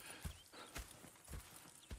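Horses in Red Dead Redemption 2 clip-clop with distinct hoof strikes in a loose walking rhythm, about six hits, close but quiet.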